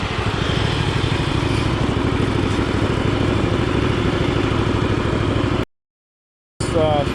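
A modified mud mower's engine runs on dirt trails, a loud, steady, rattling mid-pitched drone held close and continuous before cutting out abruptly near the end.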